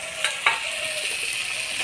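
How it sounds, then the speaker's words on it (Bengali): Fried potatoes are stirred into spice masala in a pan, with a spoon scraping and clinking against the pan over a continuous sizzle. "আলুগুলো দিয়ে মশলার সাথে নাড়াচাড়া করে নিব।"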